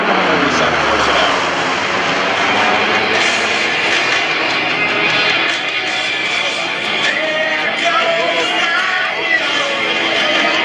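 A C-130 Hercules turboprop flies at a joint services air show open house, its loud droning engine roar sustained throughout with a steady whine, while a crowd murmurs faintly underneath.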